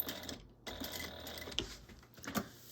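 A home sewing machine stitching the 3/8 inch side seam of a tote bag, a quiet rapid mechanical whirr with short pauses and a few sharper clicks, fairly close and alone.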